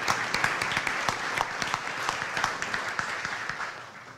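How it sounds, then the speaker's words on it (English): Rotary club members give a round of birthday applause, a full, steady patter of many hands clapping together with some louder individual claps popping through, holding even throughout. "let's give a happy birthday applause for them"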